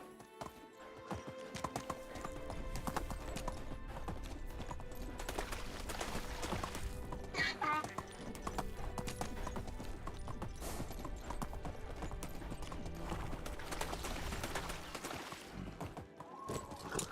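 A horse gallops in the medieval village game Medieval Dynasty, rhythmic hoofbeats clopping steadily at a quiet level alongside a brief whinny and other game sounds.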